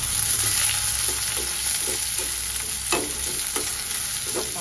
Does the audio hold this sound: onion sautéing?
yes